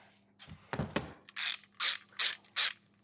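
A socket ratchet works a nut loose on a mechanical pump during a seal repair, with a few muffled clunks followed by four evenly spaced, loud, rasping ratchet strokes close by.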